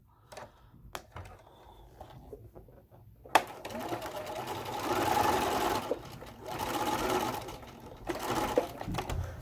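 A sewing machine stitches the seams of a quilt block, first in short stop-start bursts and then in longer steady runs of rapid mechanical whirring, close and moderately loud.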